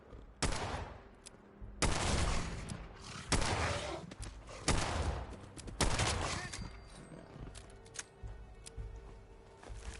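Gunfire in Fallout 4 comes as a series of loud, sharp shots spaced roughly a second apart, each with a brief echoing tail, then quieter, scattered pops as the firefight continues.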